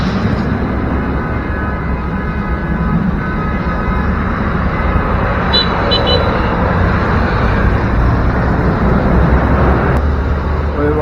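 Steady, loud rush of a motorbike riding through dense street traffic in Ketang, with continuous engine and road roar and a few brief horn-like tones standing out midway.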